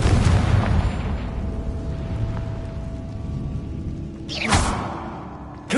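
A fire spell blasting in Hogwarts Legacy, with a rumbling game bed that builds to a sharp, loud explosive burst near the end, followed by another hit at the very end.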